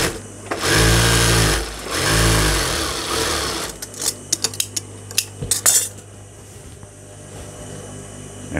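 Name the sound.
sewing machine stitching a double seam on palazzo pants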